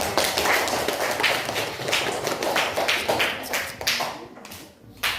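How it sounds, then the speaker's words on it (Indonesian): Classmates applaud a student named Adel as she comes forward to present in an elementary school lesson, with a burst of quick clapping from several children that thins out and fades toward the end. "Tepuk tangan dong buat Adel"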